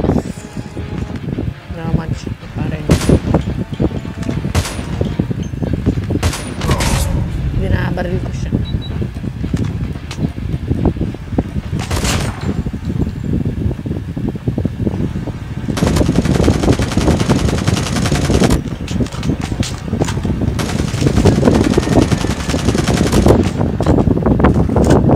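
Rapid automatic gunfire and scattered single shots from a Call of Duty 1v1 match, close and loud in repeated bursts, while players talk and laugh over the game.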